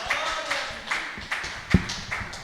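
A church congregation claps in rhythmic praise, regular synchronized beats roughly twice per second, fairly faint and alone with no talking.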